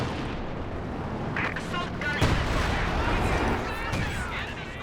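Soviet ML-20 howitzer fire in Company of Heroes 2 during a 2v2 match, a dense rumbling barrage of booms and blasts under a steady battlefield roar, with a sharp burst near the middle.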